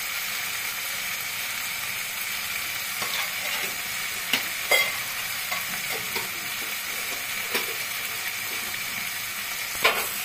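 Snake gourd stir-frying in a pan, a steady broadband sizzle with scattered scraping and clinking taps of the spoon against the metal as it is stirred, fairly close, with no voices.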